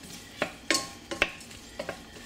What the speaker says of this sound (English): then I'm going to put the leeks in. Stir it around a bit